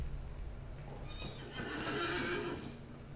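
A horse in the video game The Lord of the Rings Online whinnies once, a rising and falling neigh over a low background rumble, with faint hoof sounds nearby.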